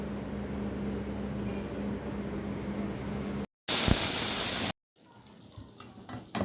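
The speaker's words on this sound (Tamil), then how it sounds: "பாருங்கள் இப்போ ஒரு விசில் விட்டு எடுத்துட்டேன்" A low background hum, then a pressure cooker whistle bursts out a loud, steady hiss of steam for about a second while cooking chicken rasam, then cuts off, leaving quieter clatter.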